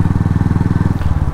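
A Royal Enfield Bullet motorcycle pulls away under throttle, its single-cylinder exhaust thumping loudly and rhythmically close up in rapid, even pulses, with no voices over it.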